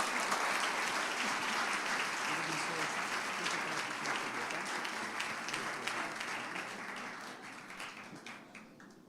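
A congregation at an evening celebration worship service applauds together in a long, steady round of clapping that slowly fades and thins toward the end.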